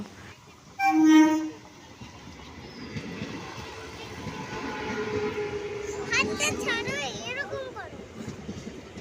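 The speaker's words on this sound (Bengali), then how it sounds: "তো দেখো বলতে বলতে এই ট্রেনটা ঢুকে গেল।" A train pulls into a station, opening with a brief loud horn blast, then a steady low rumble of rolling carriages, with voices rising over it near the end.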